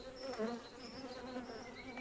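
Honeybees buzzing close at the hive, a soft continuous droning hum with wavering pitch from many wings, no voices.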